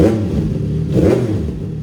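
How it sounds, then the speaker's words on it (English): A CFmoto 675SS sport motorcycle engine, already warmed up, revs up close and loud, rising in two quick throttle blips over a steady idle with a deep droning rumble. "you can already see how much faster the bike revs."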